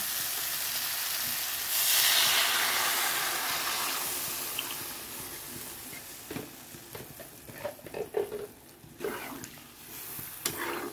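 Water poured into a pan of cooked-down fish curry, a loud, rushing sizzle that swells and then fades into bubbling and scattered stirring clinks, close up.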